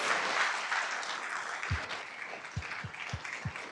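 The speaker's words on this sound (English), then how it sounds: "Let's give her a round of applause." Audience applause for Susan Page after her talk, a full round of clapping that starts strong and gradually thins, with a few low thumps sounding toward the end.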